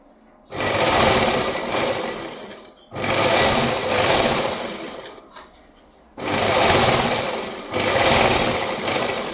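A sewing machine runs in three long, loud bursts of steady stitching with brief pauses between them, stitching fabric strips for a rabbit-style cap.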